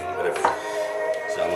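Lime spices for a coconut dish being worked with a pestle in a home kitchen, a few close knocking and grinding strokes, loud and alone without talk.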